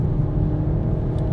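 A car engine drones steadily and fairly loud after an upshift on a short straight, a smooth low whirring rumble with no voices over it.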